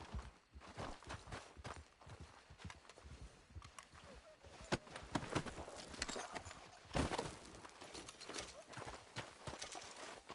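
Horse hooves clip-clop at a walking-to-trotting pace in Red Dead Redemption 2, close and rhythmic with uneven accents, a snort or whinny slipping in among the steps.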